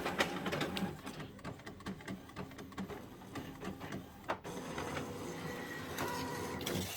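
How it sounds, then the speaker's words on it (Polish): An Epson WorkForce WF-7720 inkjet printer printing a test pattern, its print head whirring back and forth in short mechanical passes with clicks and a steady motor hum, fairly quiet. "żeby nam drukarka wydrukowała wzór testu."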